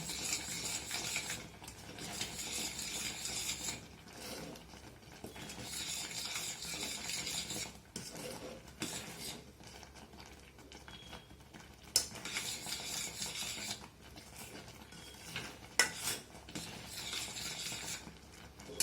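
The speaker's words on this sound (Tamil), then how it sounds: "தேங்காயும் உள்ளே போட்டு நீங்கள் மிக்ஸ் பண்ணி கலரிகிட்டே இருக்கணுங்க" A spoon scrapes and stirs grated coconut mixture in a pan over a low flame, steady rhythmic scraping with faint sizzling, close and alone with no talk.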